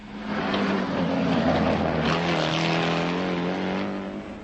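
A Škoda rally car races in the 1978 Danube Rally. Its engine drones loud and sustained throughout, the pitch rising and shifting slightly as it drives past fairly close.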